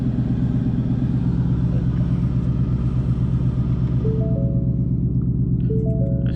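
A 2018 Ford Mustang GT with an AWE Touring exhaust drives along, its engine a steady, loud low rumble heard from inside the car, with faint tonal whines rising near the end.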